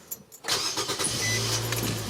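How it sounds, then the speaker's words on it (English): A 2015 Nissan Versa Note cranks and its engine catches after a short pause, rising quickly into a steady, close idle hum with no talk. "So now let's start the car and let's see how it goes."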